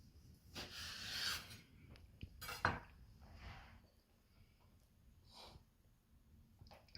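Knife slicing cured salmon on a board: a few soft, drawn-out rubbing strokes with occasional light knocks, quiet and close, separated by pauses.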